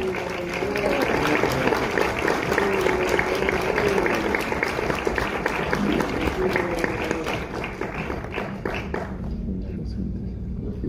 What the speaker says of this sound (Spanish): Démosle un aplauso a Rubén Rocha